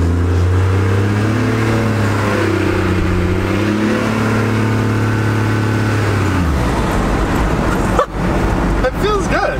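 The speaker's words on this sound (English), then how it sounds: "We got a 12 valve Cummins." A 12-valve Cummins truck engine runs close by with a droning, revving tone that drops back to a lower rumble partway through, with people talking over it.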